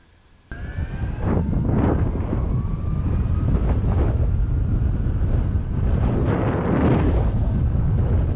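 While riding an electric skateboard, after a brief quiet start, strong wind noise suddenly roars in and stays loud and blustery, buffeting the microphone steadily through to the end.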